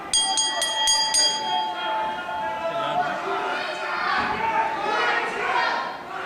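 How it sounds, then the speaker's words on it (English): A wrestling ring bell at an independent wrestling show clangs in a rapid string of about five strikes, ringing out loud over a noisy crowd and an excited commentator's voice. "The bell sounds again here."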